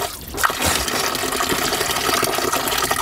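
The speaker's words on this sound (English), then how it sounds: "I can hear water." Fresh water runs from the rock inside a cave in Lebanon's Kadisha Valley, a steady rushing wash that fills the space from start to finish without pause.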